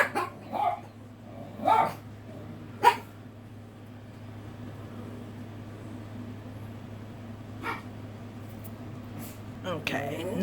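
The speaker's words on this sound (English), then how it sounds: "my dogs are being barky today" Dogs at home let out several short, sharp barks spaced across the stretch, fairly close, over a steady low hum.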